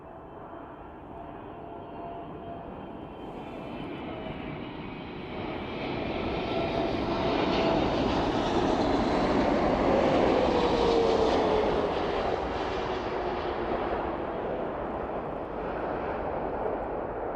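An aircraft at an airport where a Spitfire and a Boeing 777 are operating, a broad engine roar that swells to a peak midway and then eases off while staying loud throughout.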